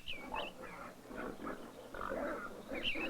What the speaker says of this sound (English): The swineherds let his pigs get into Widow Alice's garden